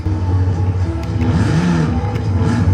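A car pulling away in the racing game Forza Horizon 4, its engine droning loud and steady with rising revs, heard alone without talk.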